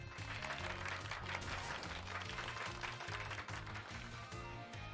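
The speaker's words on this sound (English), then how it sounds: "Give Pikachu a round of applause, everyone." Steady crowd applause in Pokemon Violet with dense clapping fills the whole stretch, over a repeating low musical pattern in the background.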